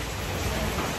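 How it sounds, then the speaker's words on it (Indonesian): Heavy rain pouring down steadily, a dense, loud wash of noise that stays constant throughout the brief moment. "Kita lagi singgah soalnya lagi hujan besar."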